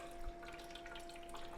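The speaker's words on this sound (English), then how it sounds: "Right now I can hear it kind of pulling in some water up through the unit" A COWSAR portable countertop ice maker drawing water up through the unit: faint trickling and gurgling over a steady mechanical hum.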